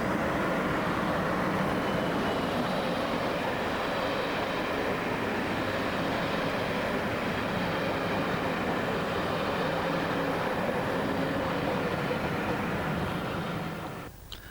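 Pathfinder's Anglian Capitalist charter train from Preston to Ipswich passing, a loud continuous roar of engine and wheels on rails that holds steady and then eases away at the very end.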